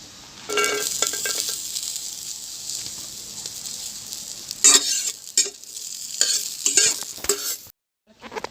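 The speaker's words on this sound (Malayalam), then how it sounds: "അപ്പോൾ നമുക്ക് അണ്ടിപ്പരിപ്പ് മുന്തിരിയും അതിലോട്ട് ഇട്ട് കൊടുത്ത് ഒന്ന് ഫ്രൈ ചെയ്തെടുക്കാം." Cashews and raisins frying in hot oil for laddu, a steady close sizzle with brief scraping stirs and a few light clinks that fades into quiet at the end.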